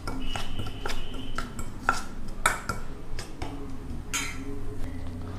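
Cauliflower tossed with chili powder in a bowl, heard as a steady run of close clinks, taps and scrapes from the mixing, with a faint hum underneath.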